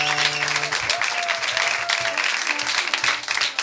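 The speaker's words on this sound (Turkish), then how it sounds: "Şimdi ciddi bir şekilde alkışlayalım" A television studio audience claps loudly and continuously after a performance, dense hand-clapping close by with some music or tones lingering underneath at the start.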